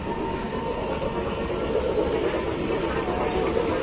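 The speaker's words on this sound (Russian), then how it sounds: "Так, дорогу поезду." A small four-carriage tourist train at Lake Garda, Italy, rolls past with a steady rumbling wash of wheels and carriage noise, moderately close and continuous, with no talking.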